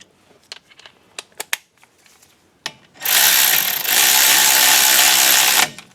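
A ratchet tightens bolts on the front brakes of a 2000–2006 Chevy Suburban: a few sharp clicks and taps at first, then a loud, dense, continuous ratcheting whir lasting nearly three seconds, close up, with no talking.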